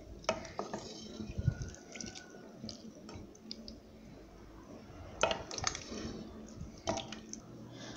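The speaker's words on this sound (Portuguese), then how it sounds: "Vou deixar aqui fervendo, misturando." A spoon stirs canjica, Brazilian hominy pudding, simmering with cinnamon stick and cloves in a pot, giving soft wet squishes and scattered clinks against the metal, fairly quiet and close with no talking.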